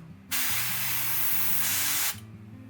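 Airbrush sprays light blue paint onto a miniature's hammer, a steady close hiss lasting about two seconds between brief pauses, with faint low hum underneath.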